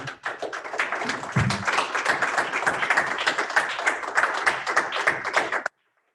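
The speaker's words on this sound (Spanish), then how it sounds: "Den un aplauso al Señor" A congregation at a Spanish-language church service claps together in a steady, dense burst of applause that lasts several seconds, then cuts off abruptly into silence.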